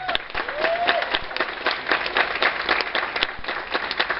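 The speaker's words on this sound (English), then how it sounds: "You gotta give Samantha a good hand" A live audience at a talk applauds for Samantha with dense, steady clapping throughout. A brief whistle rises near the start.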